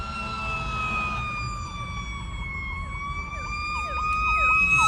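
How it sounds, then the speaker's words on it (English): Wailing emergency sirens rise and fall over steady traffic rumble, with a second siren's quick yelping sweeps joining toward the end. "You hear the alarms, the sirens?"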